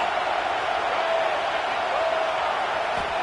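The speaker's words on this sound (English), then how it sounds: "Crowd behind this defense on fourth down." A stadium crowd in a football video game roars steadily behind the defense on a fourth-down play, a dense, even wash of cheering and noise that holds at a constant level throughout.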